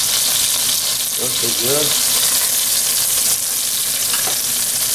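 Beef short ribs brown in a pan with a loud, even frying sizzle, while a voice speaks briefly over it partway through.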